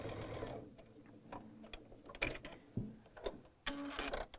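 A sewing machine stitches a seam in short start-and-stop bursts, its fast mechanical whir and ticking rising and falling through several runs at moderate, close range.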